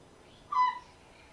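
A single short hooting or whistled bird call, clear but brief, heard against a quiet background with no talk.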